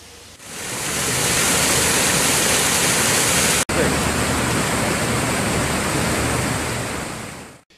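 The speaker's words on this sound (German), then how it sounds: "Hinter uns laufen die Pumpen auf Hochtouren, um das Wasser aus Aachen und der Region ringsrum wegzupumpen." Flood water pumps run at full speed during the June 2013 flood in Aken, a loud, steady, close rushing roar of water that cuts out for an instant midway, with no talk.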